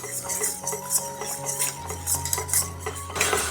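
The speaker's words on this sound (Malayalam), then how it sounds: "ഇതിലേക്ക് നമുക്ക് പൊടിച്ചു വെച്ച ബ്രെഡ് ക്രംസ് ചേർത്ത് കൊടുക്കുക ഒന്ന് മിക്സ് ചെയ്യാം" A spoon scrapes and clinks against a pan as bread crumbs are mixed into melted butter for an easy pudding, a steady run of metallic taps and scrapes with a low hum under it and no talk.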